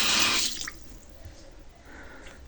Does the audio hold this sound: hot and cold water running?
yes